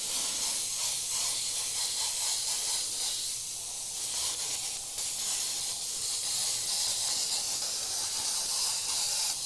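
An airbrush sprays red paint in a steady, continuous airy hiss at close range, briefly dipping in level before resuming, with no talking over it.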